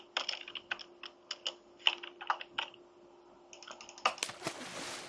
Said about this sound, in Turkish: Klavye seslerim fazla geliyor olabilir. Mikrofonum çok yakında arkadaşlar.